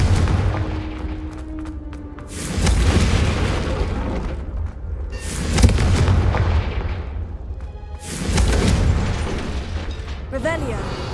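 Three heavy fiery blasts from the Confringo spell in Hogwarts Legacy boom at regular intervals, each a loud deep burst with a rumbling tail, between stretches of quieter game ambience and a brief voice.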